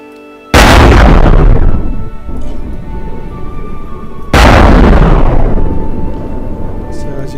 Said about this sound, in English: So pretty much it shoots out all the missiles at once.